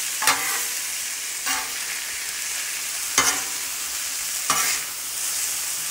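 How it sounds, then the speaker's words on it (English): Hamburger meat and squash are stirred in a hot pan, a continuous sizzle with four sharp scraping strokes spaced about a second or more apart, close and without talk. "we're just going to mix it around with that hamburger meat and squash"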